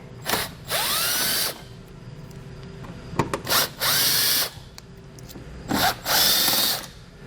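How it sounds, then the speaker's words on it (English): A cordless power drill with a T15 Torx bit backs out grille fasteners on a 2020 Chevrolet Equinox, three separate close whirring bursts spaced a few seconds apart, each spinning up, holding steady and stopping with a brief ratcheting click. "We're able to pull all of those out using a T15 Torx bit."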